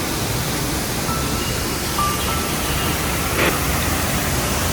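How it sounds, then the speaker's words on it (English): Thosegar waterfall roars in the monsoon, a dense, unbroken rush of falling water filling the valley at steady loudness, alone without voices. "As the mist rises and the roar of water fills the valley"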